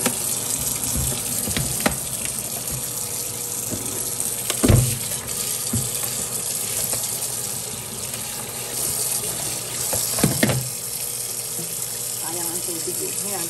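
A tap runs steadily into a sink to soak frozen food, giving a continuous close splashing rush with a few louder knocks and clatters.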